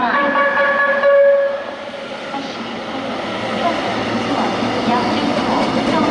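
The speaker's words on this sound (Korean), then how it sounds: "지금 열차가 들어오고 있습니다." A train pulls into a station platform with a loud steady rumble and a brief high horn or squeal near the start, under platform announcements.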